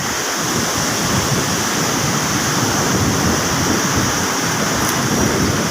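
Large sea waves roll in during the southwest monsoon, a loud, continuous roar of surf and rushing water close by, with no break.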